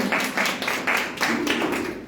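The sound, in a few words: congregation applauding in church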